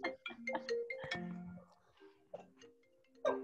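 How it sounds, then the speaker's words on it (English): A phone ringtone plays a quick, bright melodic chime of short bell-like notes, fairly close and alone, with a second phrase starting near the end. "Sorry about that phone call."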